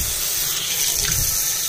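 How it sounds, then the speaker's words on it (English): Cold water gushes steadily from a sink tap, a close, loud, continuous splashing stream with no pauses. "Turn your cold water on."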